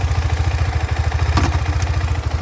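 A KTM Adventure 390 motorcycle engine idling with a fast, even pulsing throb, and a single loud clunk partway through as it is put into gear.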